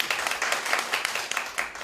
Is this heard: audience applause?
yes